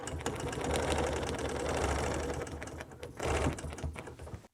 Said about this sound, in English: I'm going to move that ruler and stitch up.